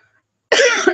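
A woman coughs once into her hands, a short, close, harsh burst after a moment of quiet.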